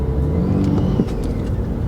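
A BMW M4 with a broken turbo revs from inside the cabin, a close, rough, uneven engine drone with a few brief rising whooshes over a low rumble.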